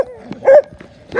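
A puppy gives short, close yaps and whiny barks in quick succession, two louder bursts separated by softer noises.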